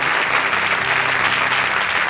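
Studio audience applause on a French television variety show, steady dense clapping filling the whole stretch, loud and close with no voices over it.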